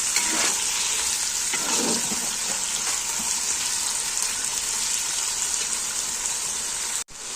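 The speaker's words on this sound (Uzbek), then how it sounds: "go'shtimizni qo'shib yaxshilab yana qovurib olamiz" Meat and onions fry steadily in a pan, a dense, even sizzle with crackles running throughout and a brief dropout near the end.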